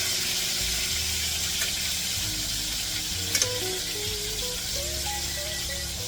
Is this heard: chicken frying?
yes